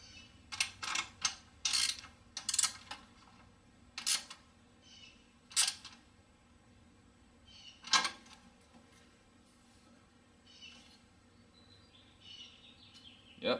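A ratchet tightens the battery hold-down on a 2007 Toyota Highlander Hybrid during a Yellow Top Optima 12V battery replacement: a handful of sharp, close metallic clicking bursts at irregular intervals, with quiet gaps between and no talking.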